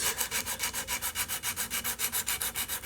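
Sandpaper rubs back and forth over mahogany wood to remove rasp marks, a close, brisk scratching in about twenty even strokes.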